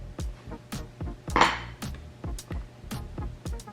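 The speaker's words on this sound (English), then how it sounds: "I'm going to go ahead and put the other vegetables in here so this can begin to cook" Vegetables tipped into a pot of Italian cabbage soup, a run of clattering knocks and clinks of metal and pieces hitting the pot at an uneven rhythm, close and fairly loud with no talking.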